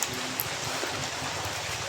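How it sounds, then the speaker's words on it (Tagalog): Steady rain falls outdoors as a continuous soft hiss with a faint low rumble, filling the short stretch with no talk over it. "Ulan na naman."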